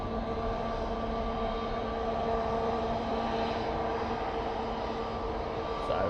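A plane taking off on a windy day at Manchester Airport, a steady loud engine roar with a droning hum that holds through the whole stretch.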